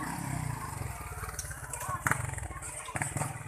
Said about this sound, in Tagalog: Yan po, daming motor.